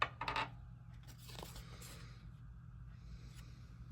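Dice rolling and clattering across a surface with a quick burst of rattling clicks at the start, then fading into quiet low background hum.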